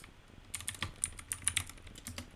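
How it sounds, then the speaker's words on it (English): Quick, light keystrokes on a computer keyboard while someone codes, a fast irregular patter of clicks, close and fairly quiet, with no voice. "So let's type it down one by one."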